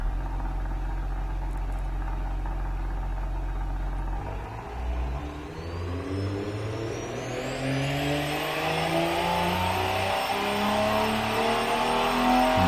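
A car engine with no muffler in the Automation car-building game idles low, then revs up hard and climbs in pitch into a loud, raw, sustained roar that swells toward the end.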